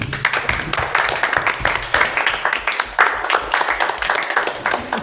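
An audience applauds at a school board meeting, dense steady clapping at close range that keeps going without a break and with no talk over it.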